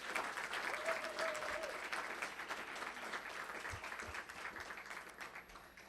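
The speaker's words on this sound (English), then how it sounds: "How about another applause for Rajon?" Steady applause from an awards ceremony audience fills the whole stretch, dense clapping that fades slightly toward the end, with faint talk underneath.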